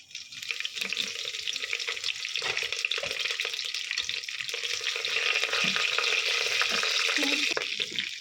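Whole spices such as dried fenugreek leaves and fennel seeds sizzle steadily in hot oil for a biryani, a continuous bright crackle that swells slightly toward the end, with no talking.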